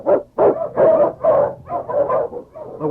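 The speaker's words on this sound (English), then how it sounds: "The Wonder Dog King, swiftest and strongest of Eskimo lead dogs, blazes the trail through storm and snow for Sergeant Preston" An Eskimo lead dog barks as a radio drama effect, about seven loud, close, rhythmic barks in quick succession, with no other sound.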